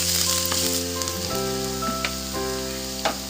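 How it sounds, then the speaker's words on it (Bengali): Mushrooms tipped into hot oil with ginger and garlic for hot and sour soup, giving a loud, continuous, close sizzle and spitting, with a few soft stirring clicks and no speech. "একটু হালকা এটাকে নেড়ে ছেড়ে আমরা এর মধ্যে মাশরুমটা অ্যাড করে দেবো."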